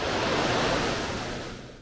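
Ocean surf rolls in at Fenwick Island beach as a broad, steady wash of waves that slowly fades over a couple of seconds, with no voices.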